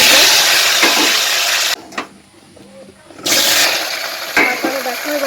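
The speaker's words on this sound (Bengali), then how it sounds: "আমি আলুগুলোকে ভেজে নিচ্ছি" Potatoes and taro sizzle loudly in hot oil in a wok, a dense steady hiss that cuts out briefly partway through and then returns just as strongly.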